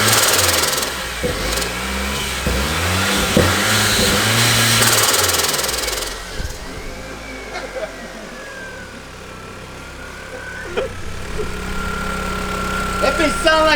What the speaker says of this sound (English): So we just spooled it, and it really sounds like a diesel truck.